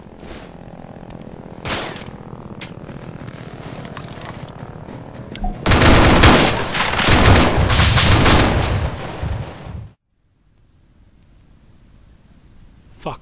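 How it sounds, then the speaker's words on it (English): A grenade blast and gunfire in the military shooter Arma 3: scattered shots crack over a low rumble, then a loud, sustained roaring explosion lasts several seconds before the sound cuts to near silence. "Just hit a grenade."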